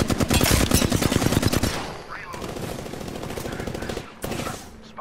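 Rapid automatic gunfire in the Apex Legends video game, a loud burst of fast repeated shots for about two seconds, then quieter scattered game noise with a few more distant shots.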